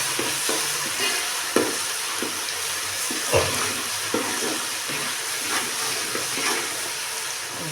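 Ginger garlic paste fries with water in a pan for a rajma bean kuska, making a steady, close hiss of sizzling broken by occasional stirring knocks and bursts.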